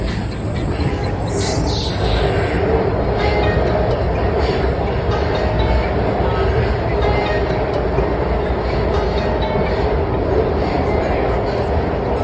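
A Washington Metro train heads into an underground tunnel near Crystal City, producing a continuous loud rumble and rattling wheel clatter from inside the car, with a voice speaking over the din.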